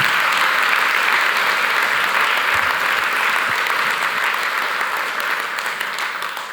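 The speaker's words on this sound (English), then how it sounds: "they all deserve a real round of applause. So please join me for applauding" Sustained audience applause fills the room at the close of an EASA certification event, a dense and steady wash of many hands clapping that softens slightly toward the end.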